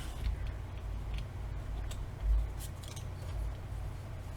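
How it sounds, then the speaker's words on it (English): Paper being trimmed down to size with scissors while assembling a beginner album journal, a steady run of soft, close snips and rustles with one louder cut midway. "So just start by trimming down your paper to the right size."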